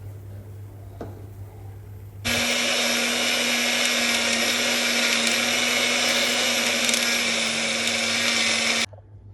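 A kitchen mixer grinder whirs into a loud, steady high-pitched roar as it grinds dry fruits with water, running without a break and then cutting off abruptly near the end.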